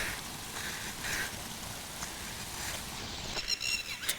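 Rainwater rushes steadily through a field from an overflowing lake in a continuous hiss, with a few brief clatters near the end.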